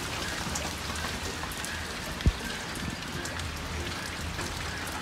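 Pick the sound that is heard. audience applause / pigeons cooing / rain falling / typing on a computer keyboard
rain falling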